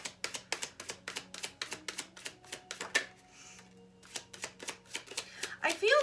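Tarot cards are shuffled in quick, close riffles, each card snapping in a rapid run of crisp clicks, with a brief pause before the shuffling resumes.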